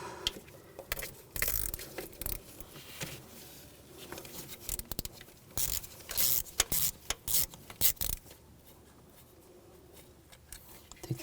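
Socket ratchet on an E8 socket backing out a bolt during crankshaft position sensor replacement on a 2007-2013 BMW X5 3.0L inline-six: bursts of close mechanical clicking and scraping in irregular runs, then quieter handling.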